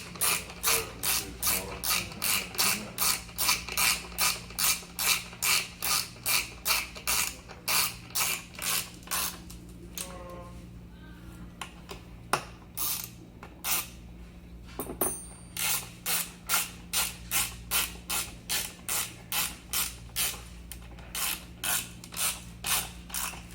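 Bolts on an EVOLV Tour 2.0 kayak add-on seat are tightened down with a ratchet, giving long runs of rapid, evenly spaced clicking nearby, a couple of brief pauses with small metallic knocks, then steady ratcheting again.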